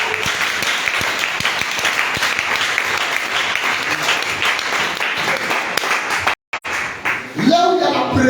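A church congregation breaks into sustained, dense applause that fills the room, with a brief drop near the end before voices rise again over the clapping.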